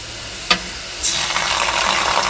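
Onions stirred and fried in a pan for an egg dish, a steady loud sizzle with a sharp spatula scrape near the start and continuous frying hiss throughout, no talking.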